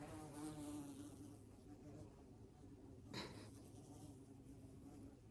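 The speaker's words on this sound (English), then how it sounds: "got a big old bee flying around." A large bee buzzes around nearby during an outdoor tarot reading, its drone drifting steadily under background noise with a louder pass midway.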